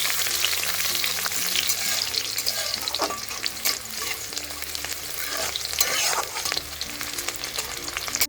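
Chopped onions fry in a pan until reddish for an ash gourd and shrimp curry: a loud, continuous sizzle broken by repeated spatula scrapes and stirring knocks.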